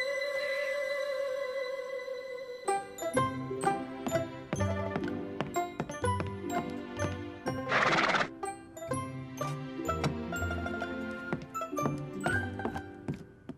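Cartoon horse Ginger gives a long, loud whinny at the start, followed by a busy stretch of clip-clopping hooves, jingles and thumps with a brief crashing burst midway, all without speech.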